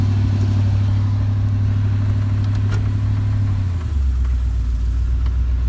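A 1985 Chevrolet C10 truck engine idles loudly and steadily in gear, a deep continuous rumble that drops lower about four seconds in as the load shifts, with no talking over it.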